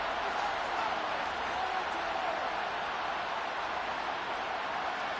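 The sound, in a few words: stadium crowd cheering in a video game football match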